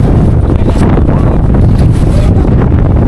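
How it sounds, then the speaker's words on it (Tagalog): Strong wind in a snowstorm at a ski resort in South Korea roars continuously against the microphone, a loud, steady buffeting rush with no pauses. "kasi ngayon halo na malamig, lakas ng hangin, tapos snow eh no"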